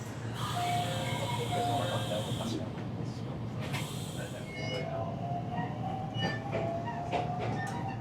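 Inside a local train riding through Japan, a steady rolling rumble and hiss fill the carriage, with brief squeals and tonal whines rising and fading over the constant noise.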